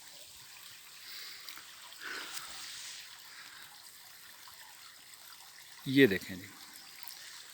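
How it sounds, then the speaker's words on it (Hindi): Water seeps drop by drop into a clear little stream beside a small link road in a scenic spot, a faint, steady trickle heard under a brief spoken phrase, with a short louder bump near the end. "कतरा कतरा पानी रिस रहा है और ये इसमें जा रहा है"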